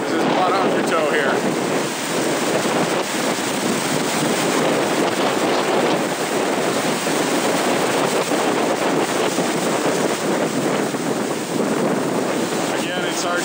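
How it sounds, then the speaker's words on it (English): Huge hurricane storm waves crash continuously against a pier during Hurricane Sandy on the US coast, a loud, dense roar of surf and wind buffeting the microphone for the whole stretch, with no break. "it's hard to do justice to the magnitude of these waves, but you can feel the pier shaking under our feet"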